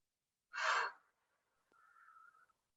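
Yoga breathing practice: a sharp, full breath drawn in through the mouth, then after a pause a long, steady, softer exhale, close and alone with no talking.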